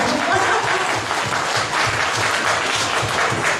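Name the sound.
seminar audience applause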